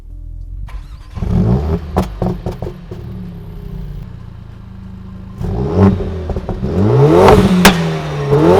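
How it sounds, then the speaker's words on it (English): A 2020 Mercedes-AMG CLA 45 cold-starts with the shift paddle held back: the starter catches, the engine fires into a loud, close flare of revs, then settles into a steady, burbling idle before revving again near the end. "hold back a paddle, and then start the car"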